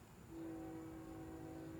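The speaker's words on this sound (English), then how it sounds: "you can hear a train blowing down the track" Train horn blowing down the track in the distance, a single sustained faint tone held steadily over low outdoor rumble, with no voices.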